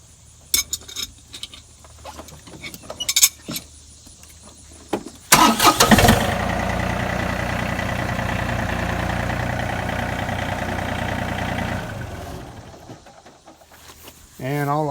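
John Deere 3025e compact tractor engine cranks and catches, then settles into a steady, loud idle for several seconds before cutting off; someone talks and metal tools clink before it starts.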